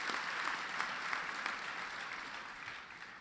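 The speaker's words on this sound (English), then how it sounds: "a big round of applause" An audience of union workers at an auto industry event applauds Transportation Secretary Ray LaHood, a fairly quiet but sustained patter of clapping from a large crowd that slowly fades toward the end.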